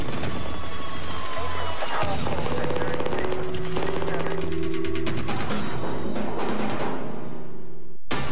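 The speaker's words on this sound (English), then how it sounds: "An armed standoff ends in a hail of gunfire." A police shootout ending an armed standoff erupts in loud, dense gunfire, rapid bursts and overlapping shots crackling continuously, with crashing impacts and shouting voices mixed in before an abrupt cut.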